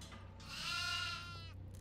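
A goat bleats once in the horror video game Devour, a single wavering cry of moderate loudness that swells and fades over a low steady hum.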